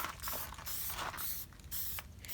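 An aerosol spray paint can hisses in several short, loud bursts separated by brief pauses, close by, outdoors on a slightly windy day, with no talking.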